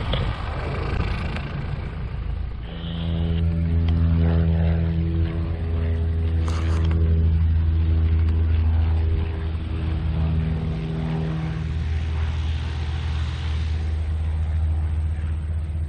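Engine of a RANS S-21 light aircraft during a high-speed taxi run, a steady loud droning rumble with a few faint radio-like blips, no speech heard.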